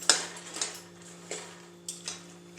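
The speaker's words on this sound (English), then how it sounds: "it's pretty much all shredded up, so you can just stir it around now" Cooked chicken for a spicy chicken dip is stirred and shredded in a bowl, giving a few sparse, light clinks and scrapes of a utensil against the dish, spaced irregularly and fairly quiet over a steady background hum.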